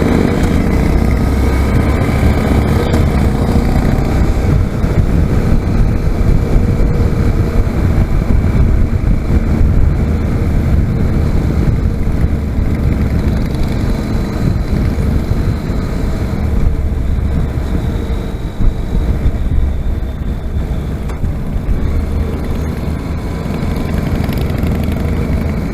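Motorcycle engine droning steadily while riding, a loud continuous low rumble with wind noise and no break from start to finish.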